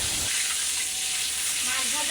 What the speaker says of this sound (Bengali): মাছ ভাজা প্রায় শেষ